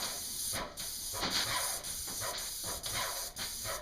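An airless sprayer applies lacquer to cabinets in a run of close, loud hissing bursts, each cut by brief pauses about every half second as fast, even strokes pass back and forth.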